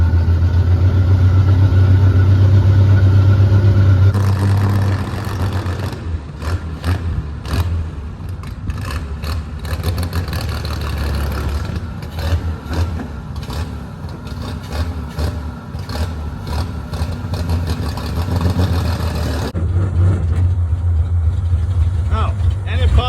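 A 1934 Plymouth coupe engine with retarded timing runs at a loud, steady idle, a low chugging drone throughout, while someone talks over it for much of the stretch.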